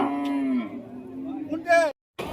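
A black cow at a busy cattle market in Rajshahi gives a loud, drawn-out moo close by, followed by a brief voice.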